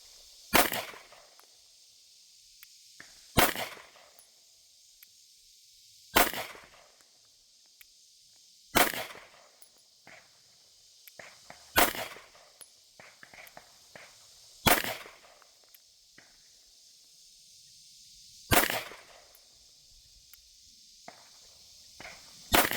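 A non-ported CZ P10C pistol fires a string of sharp, loud gunshots at an outdoor range, evenly spaced a few seconds apart, each crack followed by a brief decay.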